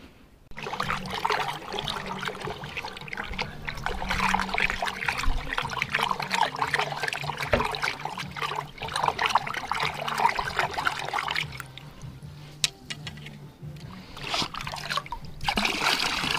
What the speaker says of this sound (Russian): Вот литровый ковшик заливаю.